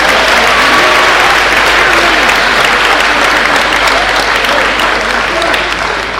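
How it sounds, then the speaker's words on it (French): Loud, sustained applause from a church congregation at an evangelical worship service in Vertières, Haiti, dense clapping filling the space with a voice faintly audible underneath. "On va applaudir le Seigneur."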